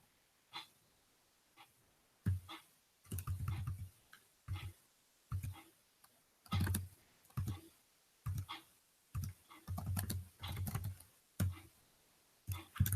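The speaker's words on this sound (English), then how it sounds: "the typing thing is kind of annoying" Clacking computer keyboard typing comes in irregular bursts of quick keystrokes separated by short pauses, close and fairly quiet, with faint breathing between them.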